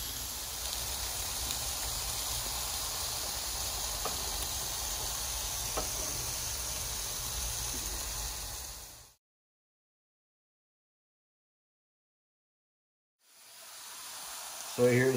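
Flat iron steak sizzles on a grill in a steady, continuous hiss with faint crackles, cutting out to silence for several seconds before the sizzle returns near the end.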